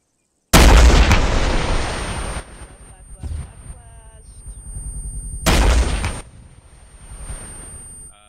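Two massive weapon blasts with backblast at military air assault training, each a loud close roar lasting over a second and rolling off into echo, with people talking in the gaps between shots.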